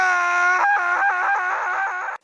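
A loud, close, prolonged scream from a person in an animated Hindi horror story, sustained and then breaking into several wavering pulses before cutting off abruptly.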